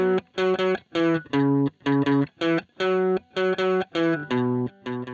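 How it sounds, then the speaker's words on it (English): An electric guitar plays through an emulated 1960s Fender Vibro Verb amp set for moderate drive and a bright, thin tone, with a quick run of distinct, evenly spaced notes and chords, loud and close. "is easily achieved with an emulation of a 1960s Fender amp. Here we're using Amplitude 4's Vibro Verb"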